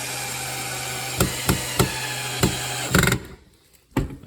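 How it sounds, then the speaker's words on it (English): A screw is driven into pocket-hole joined wood boards with a Kreg jig setup, heard as a steady drill whine broken by several sharp knocks and clicks, then a brief quiet gap and one final knock. "And screw it together until it's snug."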